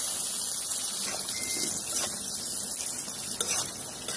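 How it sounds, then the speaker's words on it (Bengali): Potatoes frying in oil with onions for a fish bhuna give a steady, dense sizzle that runs unbroken throughout, with faint stirring scrapes. "আমি এখন অনিয়নের সাথে এটা কিছুটা তেলের মধ্যে ভেজে নেব"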